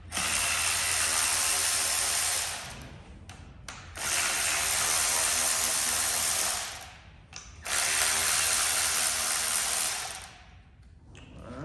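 A ratchet working the top-end bolts on a TRX250R engine during a rebuild: three long, close, steady bursts of rapid clicking, each lasting a few seconds, separated by short pauses.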